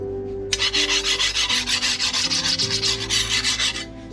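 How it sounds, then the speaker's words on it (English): A file rasps rhythmically across a hardened wootz steel Viking sword blade in quick, even back-and-forth strokes, close and steady over a low background hum. "File's skating pretty good."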